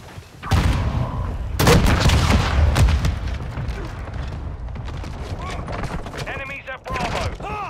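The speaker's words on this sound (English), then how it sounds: "Hostile mortar strike in the area!" Mortar strike explosions in Call of Duty: Modern Warfare II at Al Bagra Fortress, heavy booms and a dense burst of blasts with gunfire, loud and close, under game voices talking.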